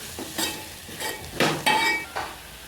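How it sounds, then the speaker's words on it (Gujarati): A spoon stirs red chili powder into a potato mixture for bread pakoda, making several close scraping, rustling strokes against the pan with brief pauses between them. "થોડુંક આપણે લાલ મરચું નાખી દઈશું એને પણ આપણે મિક્સ કરી નાખશું"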